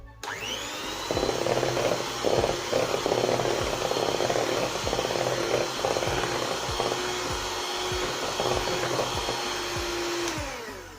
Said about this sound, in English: add a little bit of flour at a time, small amount, and then I'm going to whisk it.